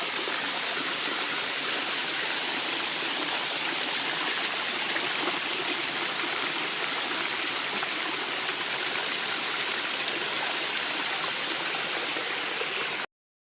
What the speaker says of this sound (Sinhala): ඔයගොල්ලෝ පොඩ්ඩක් අහුම්කම් දෙන්නකෝ මේ වතුර පාරට.